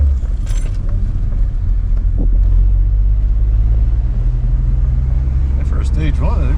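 A TSX car's engine rumbles low and steady from inside the cabin, a constant droning hum with faint road and wind noise over it.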